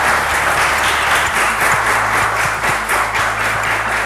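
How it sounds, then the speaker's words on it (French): Studio audience at a French televised game show applauds steadily and loudly, a dense wash of clapping filling the room, with a low hum beneath. "Merci d'applaudir"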